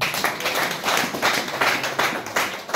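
A church congregation claps together during a sermon, a run of rhythmic, evenly spaced bursts of many hands, loud and close with no voices over it.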